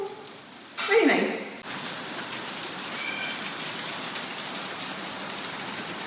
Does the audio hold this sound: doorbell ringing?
no